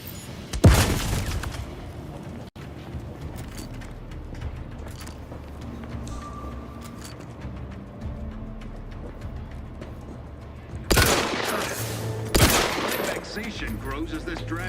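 Bombs exploding in a video game: sharp booming blasts and bursts of gunfire near the start and in a cluster near the end, with a low rumbling battle ambience between and occasional voices.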